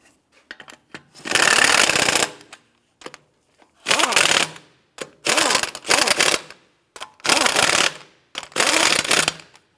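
Lug nuts on a 1992-1996 Toyota Camry 2.2L wheel snugged down with an impact tool in five loud, close bursts of rattling hammering, each lasting about half a second to a second, with short pauses between.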